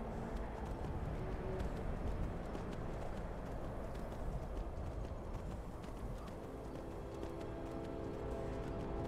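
Horse hooves clip-clop steadily at a run in the Skyrim video game, a continuous rhythmic patter of footfalls at moderate level with no talk over it.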